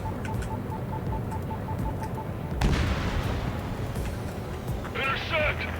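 A bomb explosion in the jet combat game Ace Combat 7 lands as one sudden heavy blast midway, rumbling beneath radio chatter and cockpit beeps, with voices talking throughout.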